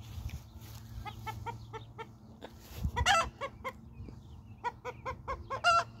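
An American Bresse hen clucks repeatedly nearby, short rhythmic calls with a couple of louder squawky notes, over a low steady background hum.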